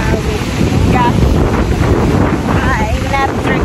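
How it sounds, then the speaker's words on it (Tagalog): Strong wind buffeting the microphone in a loud, continuous roar, gusting unevenly, with faint voices briefly audible underneath. "Sobrang hangin."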